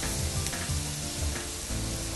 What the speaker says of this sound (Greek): για να τηγανιστούν όλα τα κρεμμυδάκια και όλο το ψαράκι προσεκτικά και να γίνει τραγανό